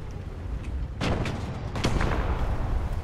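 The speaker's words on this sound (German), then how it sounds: "Oh nein, Artilleriefeuer." Artillery fire in the tank combat game War Thunder, with two heavy booming impacts about a second apart over a steady background rumble of battle noise.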